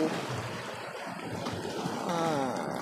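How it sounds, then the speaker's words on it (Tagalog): Ocean waves wash and surge near a shoreline in broad, steady noise that rises toward the end, with gusts of wind and faint voices nearby. "Oh, the waves is coming."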